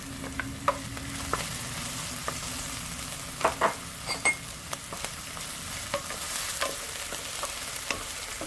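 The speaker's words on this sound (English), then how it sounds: "And now we're going to add green chilies." Green chilies added to a hot pan for methi aloo, with a steady soft sizzle of frying underneath and a few sharp clinks and scrapes of stirring close by, no talking.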